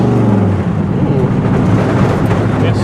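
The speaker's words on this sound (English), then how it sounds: "Made some sort of noise there, rattly rattle." A 1957 Chevy drives along with a loud, continuous engine rumble and road noise, and a rattle from the car runs under it throughout.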